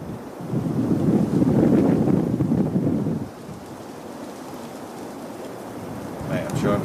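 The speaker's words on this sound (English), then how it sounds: "it is the biggest gust of wind we've had all evening" A strong gust of wind roars outdoors at night near Pengersick Castle, a loud buffeting rush for about three seconds that then drops to a quieter, steady blow.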